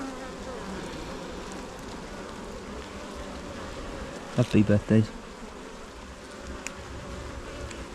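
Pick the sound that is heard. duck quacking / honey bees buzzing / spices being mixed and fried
honey bees buzzing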